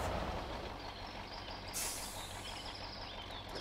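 Low rumble and rolling rail noise of a train passing in the background of the off-road trucking game Spintires, steady and moderately distant, with a brief hiss-like burst midway.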